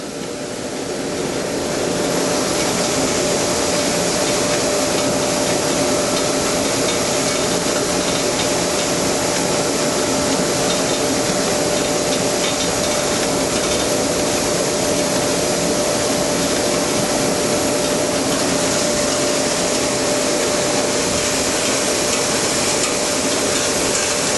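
A farm crop-processing setup where a speed reducer slowly turns a wheel that feeds crop off a wagon onto conveyor belts, giving a continuous dense mechanical roar and clatter with a faint steady whine throughout.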